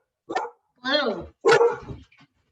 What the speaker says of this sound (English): I apologize for the barking dogs.